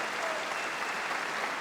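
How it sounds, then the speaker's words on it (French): Comedy club audience applauding a stand-up comedian, steady even clapping from a crowd at moderate distance, brief and without voices on top. "pour l'applaudir bien fort pour Redouane Bougueraba, du bruit."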